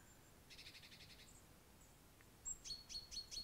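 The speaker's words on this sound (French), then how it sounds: "Il y a plein de petits oiseaux juste là qui chantent, et c'est beau." Small birds chirp and tweet outdoors in a quiet setting, first a rapid trill of repeated notes, then a series of bright, distinct calls toward the end, faint and somewhat distant over soft background hiss.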